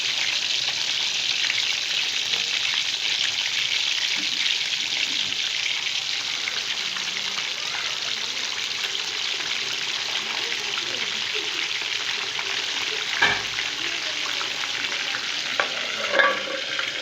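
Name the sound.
fish pieces frying in hot oil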